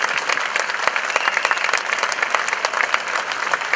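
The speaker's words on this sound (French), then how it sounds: "On peut l'applaudir" Audience applause at the France Blues award ceremony of the 2016 Cahors Blues Festival: dense, steady clapping from a crowd, loud and sustained throughout with no gaps.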